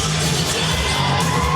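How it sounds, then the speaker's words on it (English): A wrestling crowd at an RWA show jeers a champion, a loud continuous wash of boos and shouts filling the whole brief moment. "There actually are some boos here."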